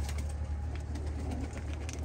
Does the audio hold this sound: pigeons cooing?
yes